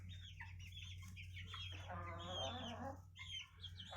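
Hens cluck and chicks peep in a homestead coop, with a hen's louder rhythmic clucking in the middle, faint and close over a steady low hum.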